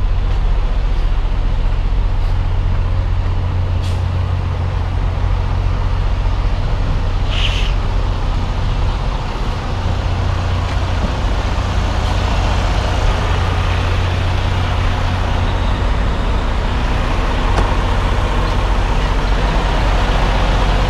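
Tractor-trailer with tandems set to the back, its diesel engine idling low and steady while backing slowly, with a brief air-brake hiss partway through, no talking.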